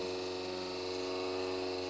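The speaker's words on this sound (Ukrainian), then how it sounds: "Ми чуємо, запрацював е, вентилятор" A computer power supply fan spins up after its green and black wires are bridged, giving a steady whirring hum with a faint buzzing tone, close and alone.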